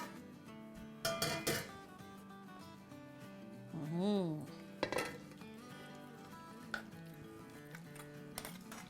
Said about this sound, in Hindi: अब हम डिश आउट करते हैं